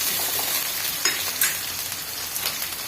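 Drumsticks fry in oil while being mixed, a dense continuous crackling sizzle close by, with occasional brief scrapes and clinks of a spoon stirring through the pan.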